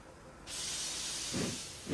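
A cartoon steam locomotive, Emily from Thomas and Friends, lets out a sudden loud rush of steam hiss, followed by two low puffing chuffs as she starts moving.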